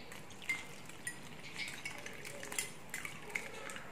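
A spoon scrapes and clinks in a bowl of banana fritter batter made with flour and coconut milk, light irregular stirring sounds close by with no talk.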